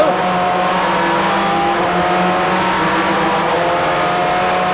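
Formula 3 race cars on a British circuit in 1992, a continuous loud engine whine as cars race past, with no talk over it.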